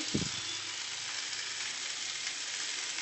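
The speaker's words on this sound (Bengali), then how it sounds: "এবার একটু জল দিয়ে দিচ্ছি।" Water poured into a hot pan of aloo dum brings a loud, steady broadband sizzle that holds evenly throughout, with a brief low thump of the pour at the start and no speech.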